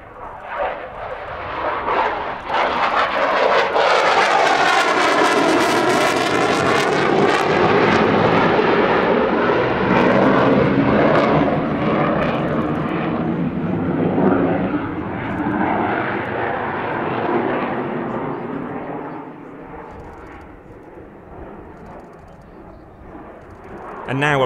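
A fighter jet roars past at an airshow on a fast pass, building to a loud, sustained whoosh whose pitch sweeps down as it passes, then fades slowly. An announcer talks over it.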